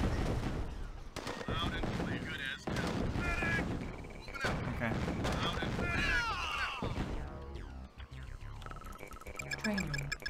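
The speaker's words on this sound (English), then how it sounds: "Why are there so much explosions?" Explosions and gunfire crackle through a Command and Conquer: Tiberian Sun battle, dense and continuous, with bursts, booms and laser-like sweeps layered over one another at steady loudness.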